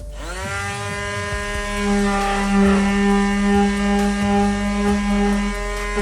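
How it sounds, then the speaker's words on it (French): A small electric triangular sander whirs steadily on wood with a strong, constant buzzing hum, swelling slightly as it presses against the surface; no voices. "Je passe d'abord une petite ponceuse triangulaire avec plusieurs grains."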